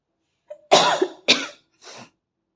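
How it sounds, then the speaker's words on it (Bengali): A person with a lingering sore throat coughs three times in close succession: two strong, harsh coughs and then a weaker one, loud and near in an otherwise quiet room. "আমার গলাটা তো এখনও একটু কাশি আছে অল্প অল্প মাঝে মাঝে কাশি হচ্ছে"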